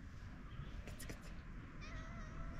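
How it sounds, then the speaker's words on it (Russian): A cat gives a brief, faint meow outdoors in the evening, one short bright cry midway through a quiet stretch, with a person talking softly around it. "Китик."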